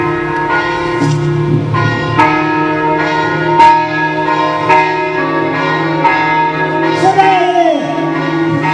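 Church bells peal loudly in an Italian convent during a staged performance, repeated resonant strikes ringing out one after another with long humming overtones, alone without talk.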